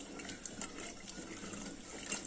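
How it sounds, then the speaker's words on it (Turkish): A homemade apple vinegar mixture is stirred with water, making a soft, continuous liquid swishing and sloshing, faint and close, with no talking. "Şöyle bir karıştırıyorum."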